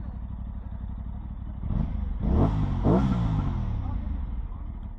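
A 2023 Aprilia Tuono 660 Factory motorcycle engine idles with a steady low rumble, then is revved twice in quick succession, each rise and fall loud and close, before settling back to idle.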